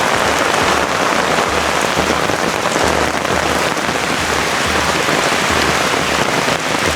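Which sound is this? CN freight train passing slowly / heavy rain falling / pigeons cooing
heavy rain falling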